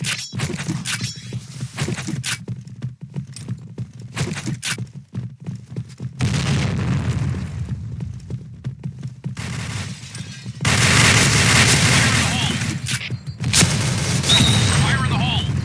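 Grenade blasts in the Point Blank shooter game: heavy, booming bursts land one after another over ongoing gunfire, each swelling into a loud, sustained roar near the listener.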